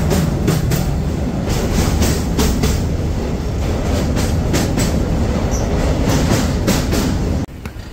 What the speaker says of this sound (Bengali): এই ট্রেনটা আন্দুলের আগে থেকে যেভাবে চলছে